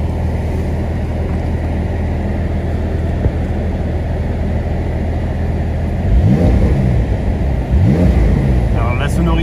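A turbocharged Porsche 911 (992) Carrera S Cabriolet engine idles with a low steady rumble, then revs sharply twice near the end, the exhaust note rising and falling.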